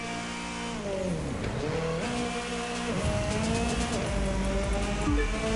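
Race car in The Crew 2 revving hard through rising and falling gear shifts while drifting, with steady engine roar and faint tire squeal, loud and continuous without talk.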